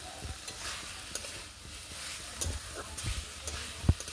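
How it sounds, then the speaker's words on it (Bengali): Spice paste for egg curry frying in a pan, a soft continuous sizzle broken by a few scraping stirs and clinks, fairly quiet and close, with no talking. "এবার আমরা এটিকে ভালো মতো ভেজে নেব যাতে সেই মশলার কাঁচা গন্ধগুলি না আসে"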